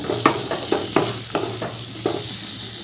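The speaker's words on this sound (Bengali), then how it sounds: "সব মশলাগুলো এবার আমি ভালো করে কষিয়ে নেব" Spices for a banana-flower and shrimp curry sizzle in a pan, with about six distinct scraping strokes of the spoon at an uneven rhythm over a steady frying hiss, close and moderately loud.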